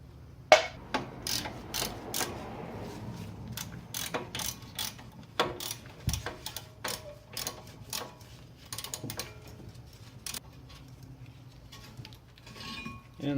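A ratchet clicks rapidly and repeatedly while loosening the front brake caliper bracket bolt on a Subaru Legacy GT, with close metallic ratcheting bursts, a few clinks and pauses between runs.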